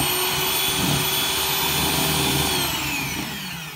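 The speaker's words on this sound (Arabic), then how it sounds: "هلأ بخفقهم مع بعض على سرعة خفيفة." An electric mixer whips butter at low speed for a Lebanese-style chocolate cream, giving a steady, even motor whir that runs unbroken throughout and eases off slightly at the end, with no talking.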